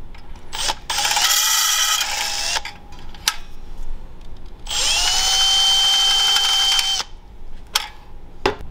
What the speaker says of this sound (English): After your holes are drilled